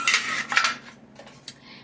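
Metal stove top drip pans clatter and scrape as they are handled, with bright clanking bursts in the first second, then quieter rattles and a final small knock, close and without talk.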